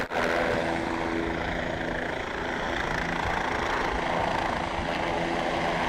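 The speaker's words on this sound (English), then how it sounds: "here we have the helicopter landing at the 50-yard line midfield" A helicopter sets down at midfield on the 50-yard line of a high school football field on a clear night, its rotor and engine a steady loud drone throughout.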